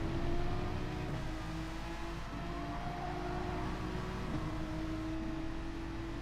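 The Volkswagen VGT race car's engine in GT Sport gives a steady, even buzz with a faint whining tone, held low and constant during close racing with no talk.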